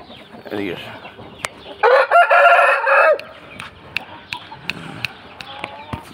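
A tall ten-month-old Lakha Aseel rooster lets out one loud, close crow lasting about a second, surrounded by sharp clicks and brief clucking sounds.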